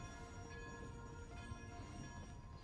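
A train in the video game Genshin Impact rolls along with a faint, steady mechanical rumble and a sustained tonal hum, heard quietly on its own.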